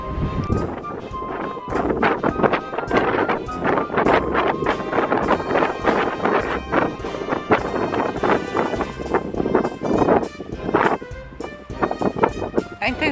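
Strong outdoor wind buffets the microphone in a dense, continuous roar of rumbling gusts, with people talking underneath throughout.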